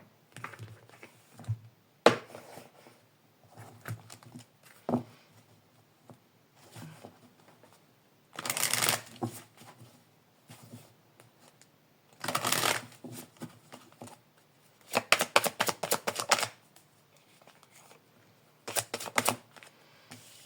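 Oracle cards of intuition and action being shuffled by hand, quiet close riffling bursts of a second or two repeating every few seconds, with softer handling clicks between them.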